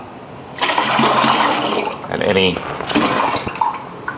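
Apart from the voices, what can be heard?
water rinsed out of a pot into a brine bucket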